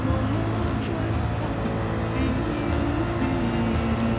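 Gr3 race car engine lapping Daytona in a racing video game, a steady dry, flatulent drone with harmonic lines shifting in pitch as it changes gear, loud and continuous throughout.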